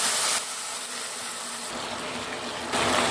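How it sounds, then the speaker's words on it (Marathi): Water pours in a steady rushing stream into a pan, a constant close splashing gush that shifts slightly in tone as it fills. "पाणी देखील लगेच घालते मी"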